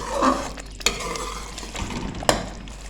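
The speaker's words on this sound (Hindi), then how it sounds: "इसको अच्छे से करेंगे मिक्स और इसको थोड़ी देर और भूनेंगे" A spoon stirs ground cumin and roasted crushed coriander in a hot pan, giving a soft sizzle with a couple of sharp scrapes and clinks against the pan, close and without speech.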